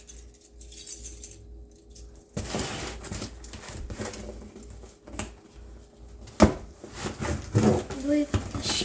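A smooth-cut key handled and jangled near a lock, with scattered metallic clicks and knocks, one sharp clatter, and a person talking quietly at times.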